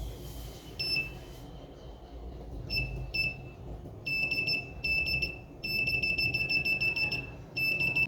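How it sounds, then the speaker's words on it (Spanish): A buzzer on a breadboard magnetic sensor detector circuit sounds in repeated high-pitched electronic beeps, sounding in bursts of varying length with short gaps, set against a low background rumble. "El circuito debería emitir una luz y un sonido al acercar el campo magnético generado por el"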